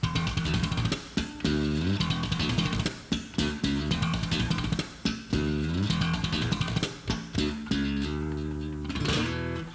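A punchy, percussive slap-and-tap bass riff with snappy attacks and repeating phrases, played loud and alone with a distorted, effects-heavy tone.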